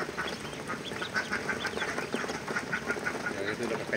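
Two-day-old ducklings peep and quack in quick, overlapping bursts nearby, a busy continuous chatter with faint rustling underneath.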